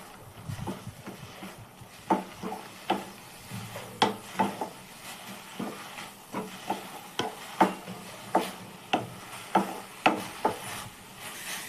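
Gongura (sorrel) leaves fry dry in a pan without water, with a steady series of sharp wooden spatula knocks and scrapes against the pan roughly every half second, close and moderately loud over a low sizzle.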